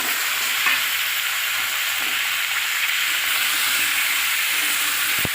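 Diced potato, pumpkin and pointed gourd fry in oil in a pan with green chillies, a loud, even sizzle and hiss that holds steady throughout, with faint stirring scrapes and a sharp clack near the end.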